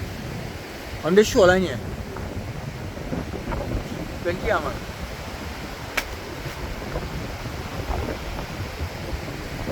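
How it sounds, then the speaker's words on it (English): Wind blowing along a shoreline lined with sea grape and almond trees in South Trinidad, a steady rushing buffet on the microphone under a man's nearby speech. "it's quite windy now"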